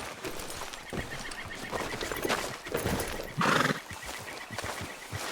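Horse in Red Dead Redemption 2 neighing once in a clear whinny midway, with soft hoof clip-clops and rustling around it, fairly close and moderately quiet; no talk.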